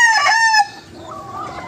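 A rooster in a chicken breeding pen gives a loud, close crow that ends abruptly, followed by softer clucking and faint background sounds.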